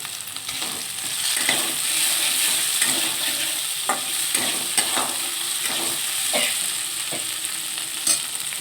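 Potatoes and tomato sauté in a pan on high heat for masoor dal with banana flower, a steady sizzle of frying with occasional scrapes and knocks of a stirring utensil, close and fairly loud.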